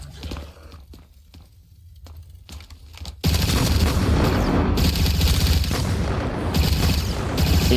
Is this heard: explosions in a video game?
yes